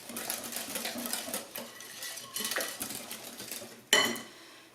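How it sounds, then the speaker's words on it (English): A hand whisk beats coconut pie batter in a bowl with quick, light clinking and scraping strokes in a busy irregular rhythm, ending in one sharper knock against the rim. "I'm going to try to mix it with my whisk."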